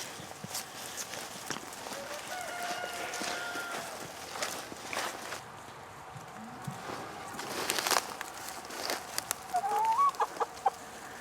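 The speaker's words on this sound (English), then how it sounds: "It's a good-looking bunch of chickens." Chickens cluck softly and intermittently amid rustling and footsteps outdoors, with a few higher squawks near the end.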